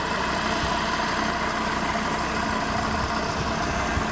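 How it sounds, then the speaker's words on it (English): An Audi RS3 8Y (2022+) idles steadily right after an oil change, its broadband engine rumble holding constant and close for the whole stretch without any voices. "Engine is running."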